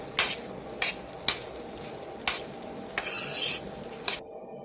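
A spoon scrapes and turns cooked variety rice in a pan with several distinct stirring strokes over a low, steady sizzle, then the sound cuts off abruptly near the end.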